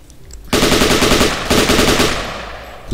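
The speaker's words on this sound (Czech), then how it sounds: "To AKčko, to je zbraň." An AK rifle in The Last Stand: Union City video game fires two loud, sustained automatic bursts back to back, the second trailing off, with no voices.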